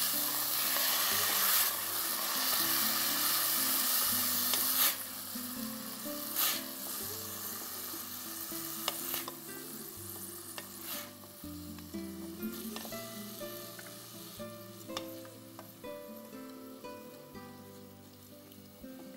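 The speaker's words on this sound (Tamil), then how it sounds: "எடுத்து இதையும் நல்லா வதக்கிக்கோங்க." Rice sautéed with onions and tomatoes in a pan gives a steady close sizzle and frying hiss for the whole stretch, with occasional light stirring scrapes and no talk.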